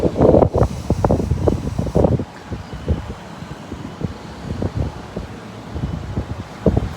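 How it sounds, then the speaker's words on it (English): Wind gusting across a seaside esplanade with Sunday markets, buffeting the microphone in heavy low rumbling bursts that ease and return, loud and close. "Excuse the wind."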